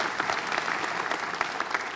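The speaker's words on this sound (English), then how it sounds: "a round of applause for 6 really excellent presentations to kick the day off" Audience at a safety conference panel gives a brief round of applause, a dense, even patter of many hands clapping throughout.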